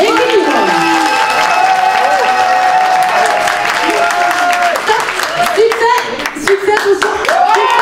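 A crowd claps in an applause-meter vote at a French town event, sustained clapping mixed with strong tonal music and voices throughout, fairly loud and close.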